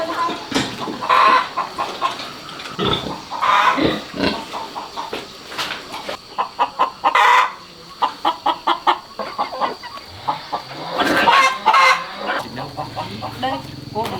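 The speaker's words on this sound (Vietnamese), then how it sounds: "Gà này đúng là gà ta mà." Local Vietnamese free-range chickens cluck and squawk in a farm pen with other livestock nearby, producing repeated bursts of close clucking over roughly fourteen seconds.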